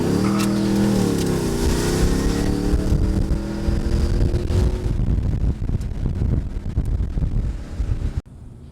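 A Mercedes E55 AMG with a custom intake accelerates past in a drive-by, a loud rising engine roar with heavy wind buffeting on the microphone, fading as the car pulls away and ending abruptly.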